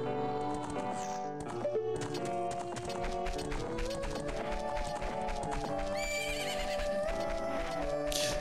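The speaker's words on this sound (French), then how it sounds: "Je me fais bousculer par les chevaux." Horses neigh and hooves clip-clop in the Zelda: Ocarina of Time video game, heard alongside bright melodic game music throughout, with repeated whinnies and steady hoofbeats at moderate level.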